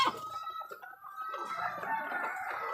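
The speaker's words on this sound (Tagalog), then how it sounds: "so yan po ang hitsura ng ating mga manok kapag kumakain" Several layer hens on a poultry farm cluck and murmur together continuously while feeding, a busy, close flock sound with no talking.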